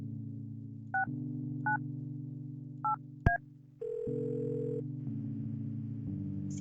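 Telephone dialing in the Kathy Rain video game: a steady dial tone is interrupted by four short touch-tone beeps, one sharp click, then a ringback tone hums on.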